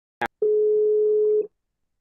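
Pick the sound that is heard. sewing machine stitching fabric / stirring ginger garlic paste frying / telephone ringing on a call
telephone ringing on a call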